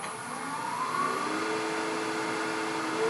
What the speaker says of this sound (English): let's just come straight in with a bowl gouge